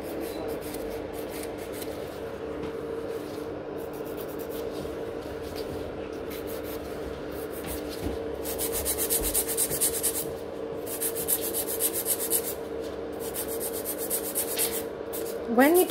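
A nail file rasps back and forth over gel nails, steady close scratching strokes that grow a little louder toward the end, with a brief voice-like sound at the very close.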